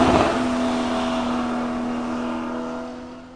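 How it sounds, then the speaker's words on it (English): A sports car engine revs hard at the start, then its high whining tone holds and slowly fades as it pulls away. "Sports car."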